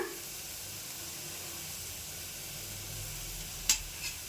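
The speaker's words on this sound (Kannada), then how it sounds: "ಇದನ್ನು ಎಣ್ಣೆಯಲ್ಲಿ ಸರಿಯಾಗಿ ಫ್ರೈ ಮಾಡ್ಕೊಳ್ಳೋಣ" Crushed garlic fries in hot oil with a steady soft sizzle and hiss, with a short sharp clink of a utensil near the end.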